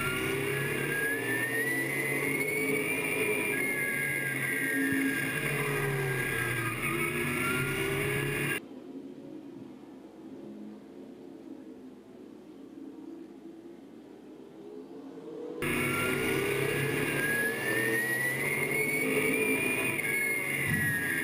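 Race cars running at Angola Motorsport Speedway during the Al Cook Memorial 88, a loud sustained engine roar from a pack of cars that fades to a low distant rumble midway, then returns at full volume.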